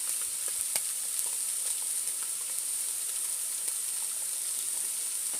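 Chili simmering in a pot on an outdoor camp stove gives a steady, even sizzle and hiss, with scattered faint clicks from a spoon stirring through it, close up and without any talk.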